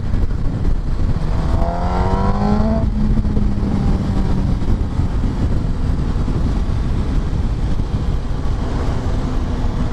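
A Yamaha R1 motorcycle pulls out and rides away, its engine revving up and rising in pitch before settling into a steady loud drone under heavy wind rumble.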